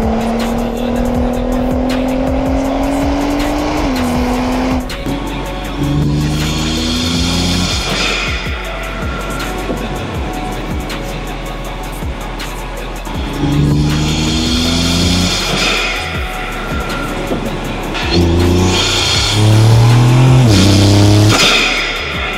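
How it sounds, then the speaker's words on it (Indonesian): A Nissan GT-R R35 Nismo accelerating hard on a toll road, its exhaust roaring through repeated rising rev sweeps, loud and close, with no talking. "Knalpot juga begitu digaspol itu baru tuh keluar suaranya."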